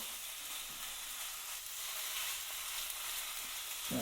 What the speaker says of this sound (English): As you can hear the sizzling.